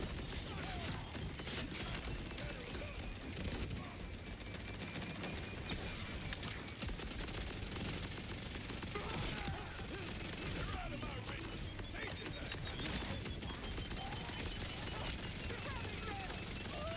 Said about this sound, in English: Look at the damage that this gun is doing.